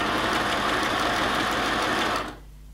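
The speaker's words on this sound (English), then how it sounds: "I'm just stitching a little bit to the left" A sewing machine stitches fabric steadily near a frayed raw edge on an elasticated waist skirt, a close continuous mechanical whir that runs for about two seconds and then stops abruptly.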